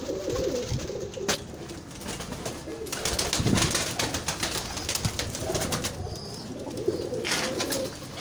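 Breeder pigeons, including a blue pigeon, coo repeatedly at close range in a Lahore loft, a low throaty burbling that runs continuously with overlapping calls and some faint background noise.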